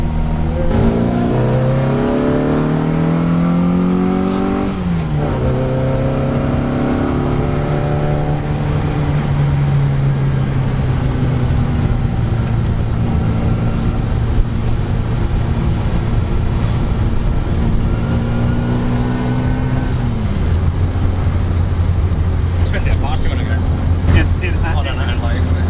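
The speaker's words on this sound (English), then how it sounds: "it's the Mini is just designed to rev." A Mini Clubman's engine revs hard, pitch climbing and falling in sweeps, then settling into a sustained high drone before dropping back to a lower idle-like hum; loud and close throughout.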